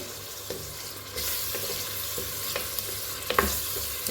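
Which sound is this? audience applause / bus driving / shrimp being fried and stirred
shrimp being fried and stirred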